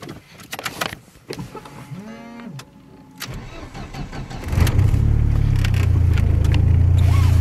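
A 400+ hp Ford Sierra Cosworth with an RS500 turbo setup starts up after a few clicks and a starter whine, then settles into a loud, deep, rumbling idle close by, with no talking.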